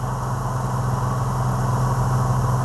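A twin-turbo airplane engine throttled back to 2,500 RPM drones steadily from inside the cabin, a loud, even low hum that stays constant from start to finish.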